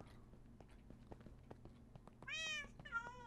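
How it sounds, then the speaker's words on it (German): Minecraft cat meows twice in a game world, two clear harmonic cries near the end after a stretch of soft tapping footsteps and game ambience. "Manu, hast du deine Muschis Katzen schon wieder frei rumlaufen lassen?"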